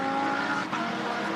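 A GT race car at full throttle on the Shanghai circuit during a China GT Championship round, a loud, sustained high engine wail with a brief dip midway as it sweeps close past.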